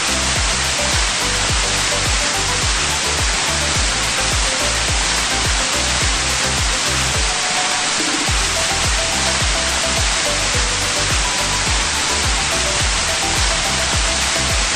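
Loud, continuous high-pressure water spray washing a Ram TRX 1500 pickup in a car simulator game, a dense steady hiss with a brief dip partway through and no talk.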